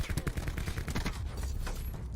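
Gunfire in Call of Duty Black Ops 4 as a player misses his shots, heard as a dense, continuous crackle of overlapping shots and impacts at moderate loudness throughout, with no clear gaps.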